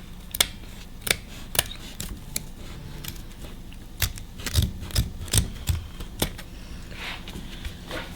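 Scissors cutting through folded layers of boat seat upholstery fabric, a series of crisp snips, evenly spaced at first, then a denser cluster of heavier cuts, close up with no talking.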